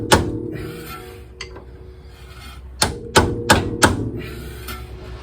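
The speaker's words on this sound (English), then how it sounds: "Have to sit the screwdriver down here and kind of hit on it" Sharp metallic hammer blows knock against a screwdriver to drive the axle out of a 1997 Honda Civic, a cluster of four or five close, loud strikes after a quieter stretch with one faint tap.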